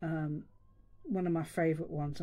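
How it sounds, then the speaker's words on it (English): A pet cat meows at a distance in a quiet room, one thin drawn-out call between stretches of a woman's speech that dominates the rest of the moment. "If you can hear a cat meowing"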